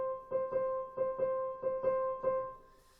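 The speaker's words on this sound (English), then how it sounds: "And that is a swing rhythm." Short musical phrase in a swing rhythm, seven evenly grouped long-short notes on a sustained tone, soft and clear with nothing else under it, trailing off at the end.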